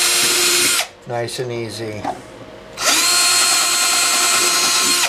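A power drill bores into the back of a cigar box guitar, whining loudly and steadily, then breaking off as someone speaks briefly before the drill starts up again and runs on.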